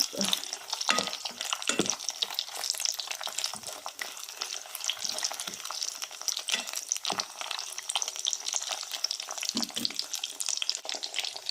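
Sizzling oil from hotdog pieces frying in a pan as egg is added for a hotdog omelette, a steady crackling hiss throughout with occasional low clunks of the pan or utensil.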